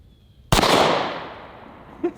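A single loud .500 Magnum revolver shot, fired with the gun held upside down at a pumpkin target, cracks sharply and then rolls into a long, fading boom, followed by a short metallic ping.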